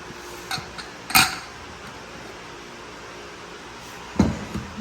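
A metal pressure cooker's lid is worked open in a home kitchen, giving two sharp metallic clanks a few seconds apart with small clinks around them over a quiet background.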